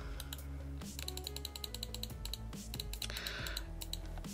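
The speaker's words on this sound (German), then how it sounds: "Die Maus klickt so laut." A computer mouse clicks loudly during a PC farming game session, with rapid, close, sharp clicks in a dense, irregular run over quiet background game sound and no speech.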